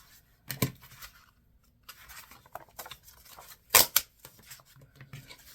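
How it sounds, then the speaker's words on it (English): Scissors make quiet, irregular snips and rustles as they cut circles from old book pages, with short clusters of crisp cuts separated by pauses. "As you can see, I'm cutting out as many as I can at once."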